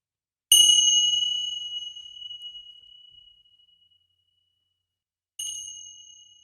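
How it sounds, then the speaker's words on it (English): Two struck chimes ring out with bright, sustained metallic tones to clear a room: a loud strike that slowly decays over several seconds, then silence, then a second strike. "We're going to clear the space with these chimes today."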